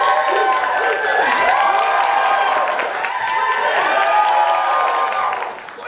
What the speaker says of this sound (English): go crazy with applause if you think they won